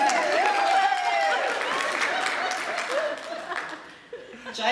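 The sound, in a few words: audience applause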